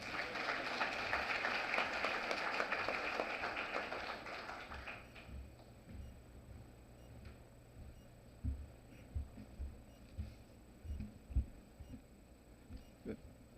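An audience at the OSH By ALL Dakar 2024 opening ceremony applauds to welcome a speaker. Dense clapping fills the first few seconds, then fades to a quiet room with faint scattered taps and thumps.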